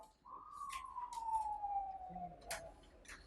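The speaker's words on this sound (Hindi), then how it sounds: "एम्बुलेंस है यार, एम्बुलेंस है" An ambulance siren sweeps in a single long falling wail, moderately distant, with a voice speaking over it and a brief low hum partway through.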